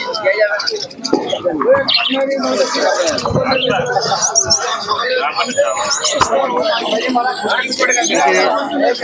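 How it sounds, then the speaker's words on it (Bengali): Pigeons and other birds chirp, coo and squawk constantly at a crowded bird market in Santipur, close and busy, with people talking in the background throughout. "খুবই ভালো মানের কবুতর রয়েছে।"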